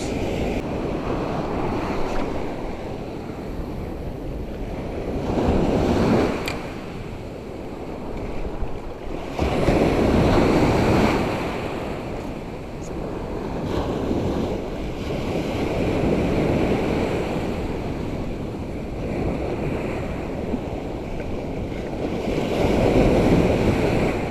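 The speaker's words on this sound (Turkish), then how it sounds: "Rüzgar karşıdan geliyor." Strong wind roars across the microphone on a Turkish sea shore during bluefish fishing, blowing head-on, with waves surging and washing in and out in slow swells.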